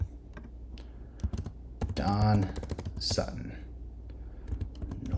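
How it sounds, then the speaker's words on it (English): Computer keyboard keys click in quick irregular bursts while a person speaks briefly over the typing. "let's start typing."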